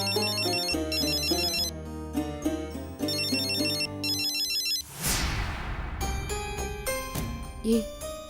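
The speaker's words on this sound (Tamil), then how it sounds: "ரிங் ஆகுது" A phone ringtone plays a bright, repeating melodic pattern in a domestic TV drama scene, loud and close, with a burst of noise partway through before the ringing resumes.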